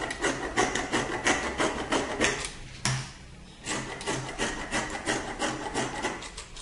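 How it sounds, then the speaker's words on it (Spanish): Fabric lining for a child's Christmas dress is being cut, giving close, rhythmic scraping and crunching strokes in quick repeated bursts with a brief pause midway. "y cortamos nuestro forro"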